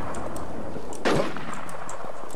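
A single sharp gunshot rings out during a video game PvP match, loud and brief against a steady background of game ambience.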